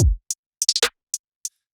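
FL Studio beat with a low kick hit followed by short, sharp hi-hat ticks, including a rapid cluster whose hits drop in pitch, then sparse single hats, clean and dry with nothing else playing.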